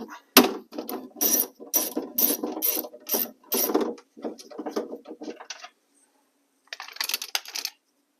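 A ratchet clicks in quick bursts of sharp, close strokes as it undoes the window regulator bolts inside a Honda Civic door, with a short pause before one more burst.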